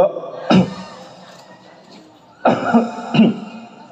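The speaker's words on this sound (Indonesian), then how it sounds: "batuk dulu." A person coughs a few times close by, one sharp cough followed later by a pair, with a quiet pause in between.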